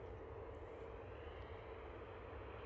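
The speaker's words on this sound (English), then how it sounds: "Let's hear the engine start up." A large airliner's engine hums at Manchester Airport, a steady distant drone holding at an even level, faint and unbroken, with no talking.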